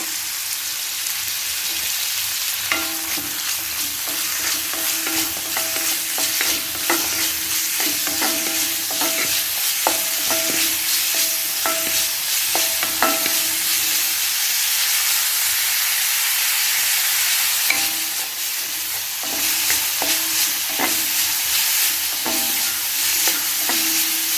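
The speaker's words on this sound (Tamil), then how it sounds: "எண்ணெய் காஞ்சிட்டு இப்போ வெங்காயம் போட்டுக்கலாம்" Chopped medium onion fries in hot oil for chayote gravy, a steady dense sizzle with occasional stirring clatters, continuous and close with no talk.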